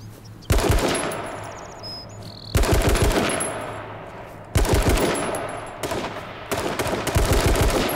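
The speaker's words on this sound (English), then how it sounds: "This guy's getting shot at by somebody else." Bursts of automatic gunfire in the battle royale video game H1Z1 Z2 rattle out in four long volleys with short gaps, loud and close, with faint chirps in the background.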